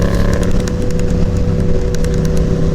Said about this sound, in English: They love revving bikes.